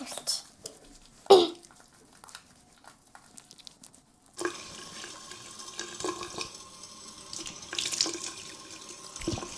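Water running from a tap into a sink, starting after a quiet stretch with a brief clatter, then a steady close gushing flow that persists, with a voice speaking over it.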